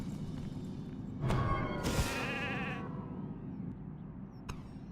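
A sheep bleats from a Warcraft III polymorph spell, a short wavering cry over steady game ambience and music, with a thump just before and another faint blip near the end.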